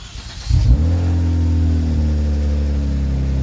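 A Kia Stinger with a newly installed aftermarket exhaust starts up with a short burst, then settles into a loud, steady, rumbling idle close by, with no talking over it.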